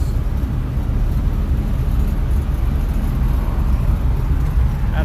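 A Nash car cruising on a highway near an on-ramp, with steady broadband road and engine rumble filling the whole stretch, continuous and fairly loud with no clear pass-bys.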